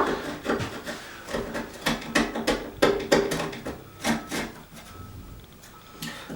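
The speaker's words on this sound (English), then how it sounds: "we're still going to use a sharp tool just to scrape the surface, take off a little bit more gel coat" A sharp hand tool scraping damaged gelcoat on a fiberglass surface, a series of close, rough rasping strokes with irregular pauses, no speech.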